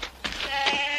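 A sheep bleats once, a short wavering cry close by and fairly loud, with no talk over it.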